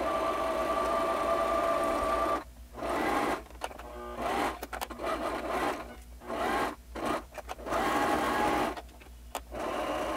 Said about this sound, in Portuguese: E aqui eu vou passar uma costura para prender essa parte nessa.